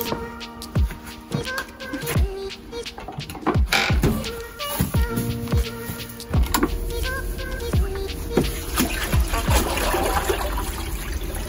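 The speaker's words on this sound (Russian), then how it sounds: "Вода здесь наполняется очень удобно, со шланга." Water pouring from a hose into a container at a horse stable, a continuous splashing trickle with scattered clanks and knocks of handling throughout, fairly close and steady.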